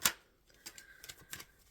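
Tarot cards are shuffled close up: a sharp riffle snap, then a series of soft, quick card flicks and taps, fairly faint, with no talk.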